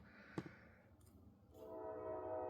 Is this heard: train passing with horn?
yes